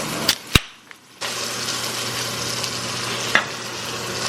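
Steak seasoned with salt and pepper sizzles in a pan as it cooks, a steady close hiss of frying that kicks in after a few sharp clicks and knocks, running unbroken to the end.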